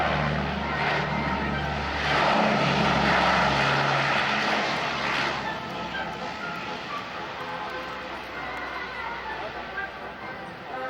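A military aircraft's engine roars at an air show during a short-field landing approach, a loud, broad drone that swells and then eases to a steady rumble. An announcer talks over the noise.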